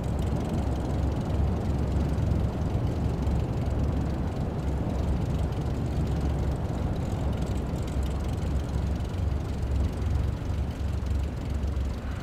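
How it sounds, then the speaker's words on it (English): Airplane in Microsoft Flight Simulator 2024 rolling down a runway after landing, with a steady, loud engine and rushing roar holding constant throughout as brakes slow it to a stop. "apply the brakes progressively to slow us down and bring the plane to a stop"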